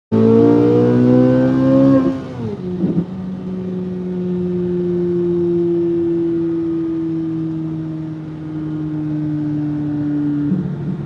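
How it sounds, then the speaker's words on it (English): A car engine revs hard and loud through its exhaust, then drops and settles into a long, steady droning tone before easing off. "that exhaust do sound awesome though"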